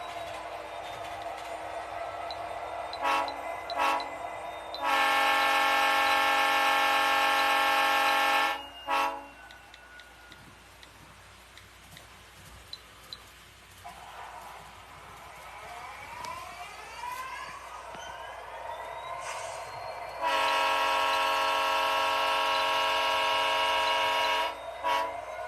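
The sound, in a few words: train passing with caboose, horn and wheels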